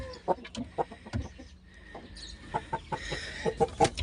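A fighting rooster with three wins and a recent draw, moulting, clucking in short bursts up close along with other farm-animal noises, fairly loud with brief pauses between calls.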